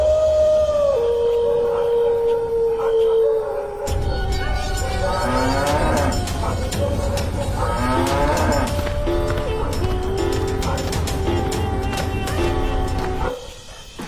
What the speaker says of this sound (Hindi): घर पहुंचकर गौरी दर्द में फिर से रंभाते हुए भगवान को याद करती है।